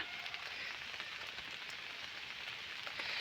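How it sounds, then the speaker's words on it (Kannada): Heavy rain pours steadily onto a surface, a dense, unbroken hiss with scattered drop patters and no voices. "ಮಳೆ ಒಂದು ತ್ರೀ ಡೇಸಿಂದ ಹೆವಿ ಮಳೆ ಇದೆ"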